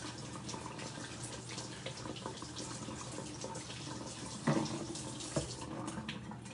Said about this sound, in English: And then you rinse your sausages.